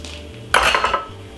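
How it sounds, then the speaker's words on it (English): Wire whisk beating chocolate sponge cake batter in a bowl, a short burst of close, brisk scraping and clinking strokes against the bowl's sides after a quiet moment. "a whisk like this and just give it a nice lovely whisk."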